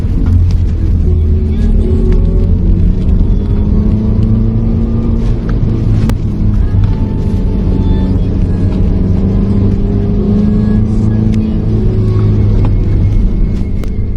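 A vehicle rounding a bend on a road gives a steady, loud engine rumble and road drone that holds evenly throughout with no voices.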